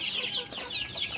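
Backyard hens cluck in a steady, close chorus of short repeated calls, fairly faint but continuous with no talking over them.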